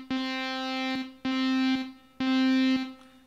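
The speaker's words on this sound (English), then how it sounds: "this is more of like a spring reverb" Three sustained electric guitar chords through a spring reverb effect, each held about a second and cut off cleanly, with a reverb tail trailing after the last.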